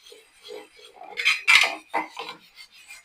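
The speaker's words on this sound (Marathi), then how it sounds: "या चोथ्याने आता तवा घासून घेते" A blackened iron griddle is scrubbed with squeezed lemon pulp, producing several close, harsh rasping strokes that swell and fade, with the loudest scrape in the middle.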